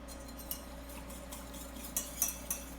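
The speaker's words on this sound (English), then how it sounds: "Make sure we mix that in really well." Salt and pepper being mixed into a sauce make faint light scrapes and clinks of a utensil against a pan, growing a little busier toward the end, with no speech.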